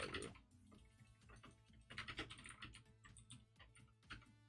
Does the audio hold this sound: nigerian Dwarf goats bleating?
no